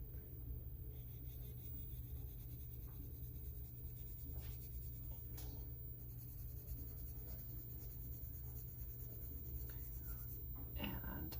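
Colored pencil is rubbed lightly across paper in soft base layers, a faint, steady scratchy whisper of strokes under low background hum.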